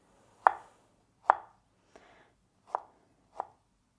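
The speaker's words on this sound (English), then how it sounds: "So I want to cut these into nice thick slices" A knife cuts pears into thick, slightly angled slices on a board: five separate crisp chops at uneven intervals, close and clear, with quiet room in between.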